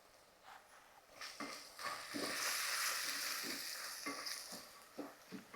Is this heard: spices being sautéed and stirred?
yes